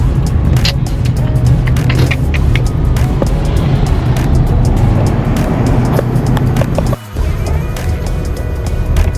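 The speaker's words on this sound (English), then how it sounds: "All this traffic." Busy road traffic near a park entrance, a steady close rumble of cars and engines with repeated passing vehicles and clicks, broken by a brief dip before the noise resumes.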